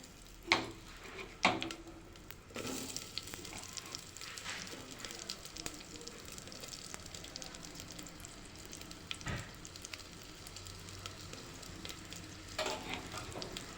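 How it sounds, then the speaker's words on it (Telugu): Chopped onions hitting hot oil in a pan, a steady broad sizzle with clatters of a spoon stirring at intervals, close and fairly quiet, no voices. "ఆయిల్ అనేది మంచిగా హీట్ అయిపోయింది ఇందులోకి మనము కట్ చేసి పెట్టుకున్న ఆనియన్స్ వేసుకుందాం"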